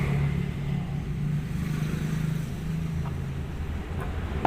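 A cordless drill spins a homemade generator with a high-speed blade at about 1100–1200 rpm, giving a steady, loud, continuous motor whine with a low drone and no voices.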